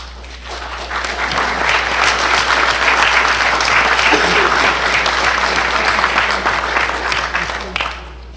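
A room full of people gives a round of applause that swells quickly and holds loud and dense for several seconds before tapering off, with a low electrical hum running underneath.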